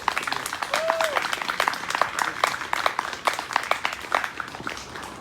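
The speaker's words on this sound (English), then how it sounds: "Can we just get another round of applause for that?" Applause from an audience at a queer liberation vigil, a steady patter of many hands clapping at moderate distance with crowd noise mixed in throughout.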